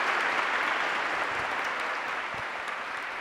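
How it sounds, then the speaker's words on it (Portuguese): Sustained applause from an audience at a parliamentary session, dense clapping that stays even and fairly loud, tapering slightly toward the end. "deem os aplausos a eles mais uma vez, por favor."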